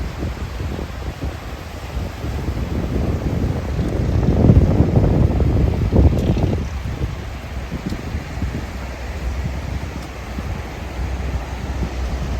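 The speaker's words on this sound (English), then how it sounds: "Those sounds of the waves and the ocean never get old." Atlantic ocean waves at Myrtle Beach rolling in and washing ashore near a pier, a low rushing roar that builds to a peak midway then recedes, with wind in the background.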